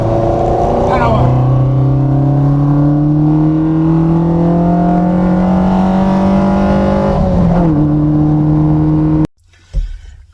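Ford Fiesta Zetec S on a track day at Cadwell Park, its engine note climbing steadily through the gears with a brief shift dip, loud and continuous from inside the cabin, cutting off abruptly near the end.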